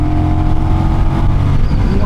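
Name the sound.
Honda Rebel 1100 DCT motorcycle accelerating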